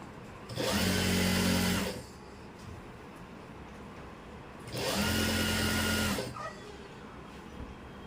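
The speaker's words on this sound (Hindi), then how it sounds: "अब मैं इसके बीचों बीच एक सिलाई और लगाऊंगी।" Sewing machine running a line of stitching down the middle of fabric for palazzo pants: two separate bursts of humming motor whir, each about a second and a half, with a quiet pause between them.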